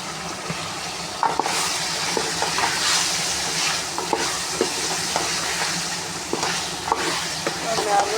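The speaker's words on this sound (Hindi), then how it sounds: "मैं आलू डाल के 2-3 मिनट इनको अच्छी तरह से भूनूँगी" Potatoes sizzling with carrots and peas in a pan while being stirred, a dense continuous fry hiss broken by scraping utensil strokes, close and loud, with no one talking.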